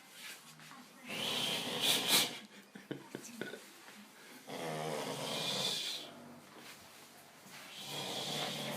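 A man snores in drawn-out breathy rasps, several long cycles with short pauses between them, close and fairly quiet, with a few soft clicks and rustles in between.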